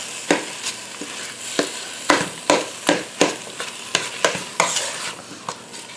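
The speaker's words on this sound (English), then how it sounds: "I'm going to stir this around for just a second." A spoon stirs jalapeno popper soup in a pot, scraping and clacking against the metal in quick, uneven strokes over a soft sizzle, close and alone with no voices.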